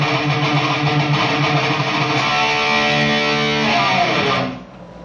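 An electric guitar chugs through a tight, distorted galloping riff, with quick sixteenth-note bursts closing the bars. Loud and continuous for about four seconds, it then cuts off into near silence.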